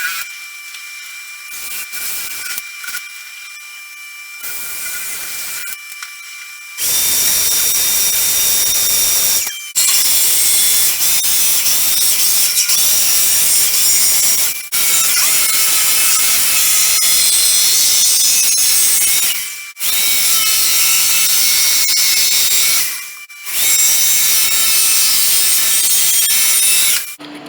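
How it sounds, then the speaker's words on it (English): A loud, steady power tool whine boring out wood runs in several long bursts separated by brief pauses, close up, with a quieter hum at the start. "I'm getting ready to go ahead and bore that out."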